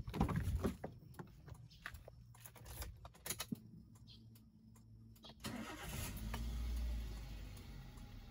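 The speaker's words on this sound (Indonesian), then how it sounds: "Kita hidupkan dulu mesinnya." A car engine with an overheating fault cranks with rapid clattering bursts, then catches and settles into a low steady idle that rises in volume toward the end.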